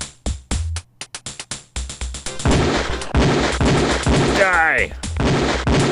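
Rapid gunfire at a police shooting range in the game Police Quest 4, a quick series of sharp close shots followed by a denser burst, with a brief spoken word partway through.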